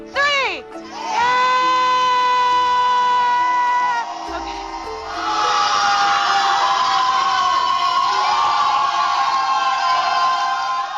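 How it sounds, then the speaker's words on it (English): A group of people screams and cheers at the top of their lungs, a sustained, loud burst of shouting that dips briefly midway and then swells again. "And you scream at the top of your lungs."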